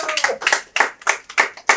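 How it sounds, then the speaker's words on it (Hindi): Audience at a live Hindi comedy talent show claps for a performer in several short, loud bursts of clapping separated by brief pauses, close and uneven, with no talking. "अरे जोरदार तालियां अतुल जी के लिए होनी चाहिए"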